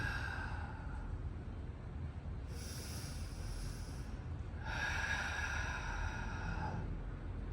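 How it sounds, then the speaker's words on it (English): Two soft, breathy inhales during a golf breathing drill, each a drawn-out airy rush lasting about a second and a half, close and quiet, with no talk. "So it's an inhale breath."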